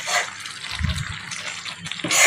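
Water is poured into a coconut burfi mixture in a pan, a short gushing trickle heard up close alongside faint stirring.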